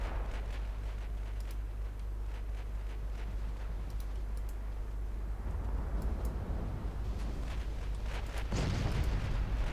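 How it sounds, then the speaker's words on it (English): Torpedo hits explode against enemy ships in a naval war game set in 1954, heard as a low rumbling roar with scattered crackles that swells into a louder blast near the end, with no voices. "good torpedo hits on a lot of enemy ships"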